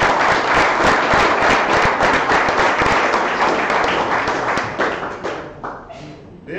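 A crowd at a public gathering in Myrtle Beach claps loudly and steadily for a candidate, the dense applause holding strong before tapering off near the end.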